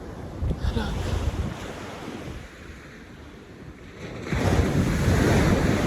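Ocean waves and wind along the shore during a walk, with a constant windy rush that surges louder near the end as surf washes in.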